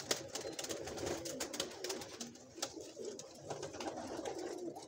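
Pigeons cooing, likely a breeder's pair of sturdy Teddy pigeons, a steady low murmur of coos with scattered bird calls over a noisy background, fairly quiet and continuous with no talking.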